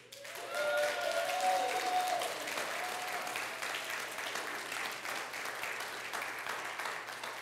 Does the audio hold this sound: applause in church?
yes